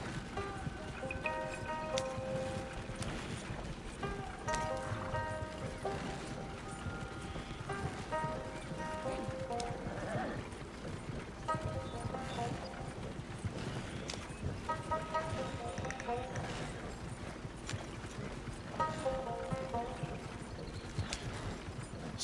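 Steady clip-clop of horse hooves pulling a creaking wagon in the video game Red Dead Redemption 2, a quiet rhythmic trot over a soft rolling rumble with light game music.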